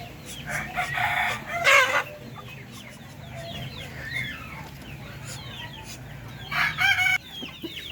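A Darag rooster penned with a hen crows loudly twice, once near the start and again near the end, with soft clucking and scratchy movement in between.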